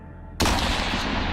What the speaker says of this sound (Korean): 한 발의 총소리가 들려왔다.